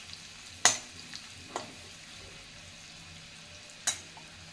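Finely chopped garlic frying for dal fry, a low steady sizzle with a few sharp clicks of a spoon against the pan, faint and close, no voices.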